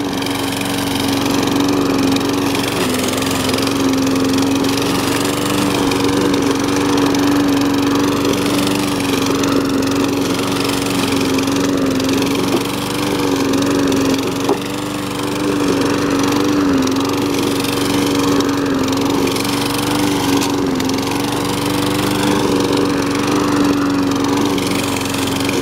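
A lawn mower engine runs nonstop while cutting grass in rough ground scattered with rocks and sticks, a loud, steady close-range drone with a strong hum and no talking.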